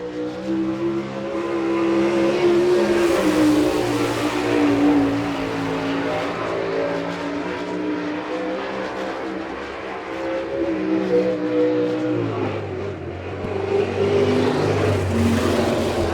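A sprint car with a stealth chassis and gritty racing engine runs on a dirt oval at an All Star Circuit of Champions event in Chillicothe, Ohio, its loud engine droning steadily and shifting pitch as it laps, with no talk.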